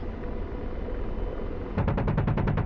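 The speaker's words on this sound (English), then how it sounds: "Put some gun rounds out." Apache attack helicopter cannon fire in DCS World during a convoy ambush: after a steady rotor and engine drone, a rapid loud burst of roughly a dozen evenly spaced rounds starts partway through and runs to the end.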